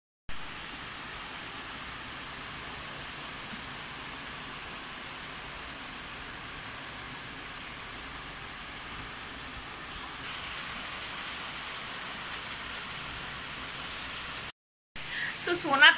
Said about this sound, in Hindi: अभी हो रहा है बाहर जोरों से बारिश